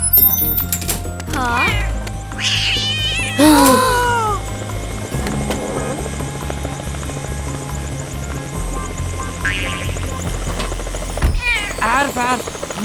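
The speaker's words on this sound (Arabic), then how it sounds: "ما تقدر تصدق إن قطوة ركبت الهليكوبتر" A cartoon cat meows aboard a helicopter, giving a few short wavering cries over a constant rotor thrum and a lively, cluttered cartoon soundtrack.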